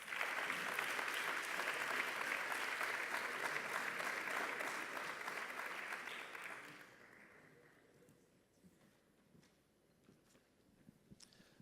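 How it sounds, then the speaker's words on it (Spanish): Audience applause at a 2018 MACOM graduation, a steady dense wash of clapping for Óscar that holds for about seven seconds, then fades to scattered claps and quiet room noise. "Por favor, un aplauso para Óscar."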